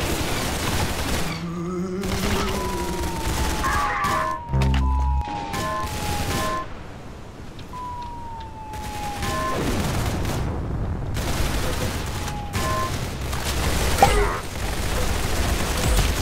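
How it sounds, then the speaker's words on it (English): Roblox Arsenal gameplay fills with rapid bursts of gunfire, explosions and booms, mixed with game sound effects and tones, steady and busy throughout. "Very good shooting."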